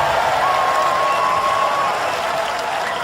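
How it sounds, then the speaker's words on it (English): Studio audience applauding and cheering for a robot combat team at a televised Robot Wars competition, a steady dense wash of clapping throughout with a faint sustained tone above it. "Ladies and gentlemen, give them a round of applause"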